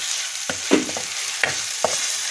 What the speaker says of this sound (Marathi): हा मसाला तर आता तेलामध्ये पण तो मसाला चांगला परतवून घेतोय